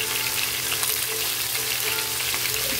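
Sweet corn mixed vegetables with turmeric and salt are stirred as they fry in a pan, giving a steady close sizzle with soft scraping stirs and no talk.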